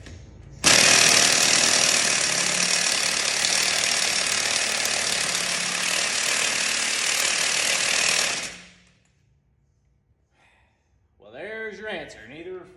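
A Milwaukee impact wrench hammers on a 2003 Chevy Silverado rear axle in one loud, continuous burst of about eight seconds, then stops, followed by a short stretch of quiet and a voice speaking.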